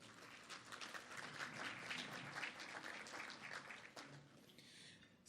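Applause from an audience at a morning business networking event, a faint, steady wash of many hands clapping that continues for several seconds and then thins out at the end.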